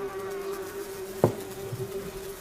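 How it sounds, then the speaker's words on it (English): Carrion flies buzzing in a film scene, a steady thin drone hanging throughout with one brief soft thump midway, fairly quiet and with no speech. "The buzzing is frightfully loud."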